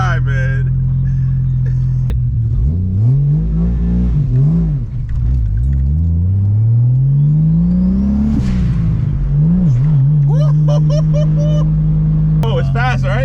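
A BMW M340i rear-wheel-drive car engine revs and accelerates loudly up through the gears, pitch climbing and dropping between shifts, heard from inside the cabin with people talking over it.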